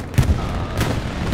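Artillery fire during a large 35-versus-35 match on Omaha Beach: a few dull booms, one sharper hit near the start and another later, over a steady rumble of battle noise.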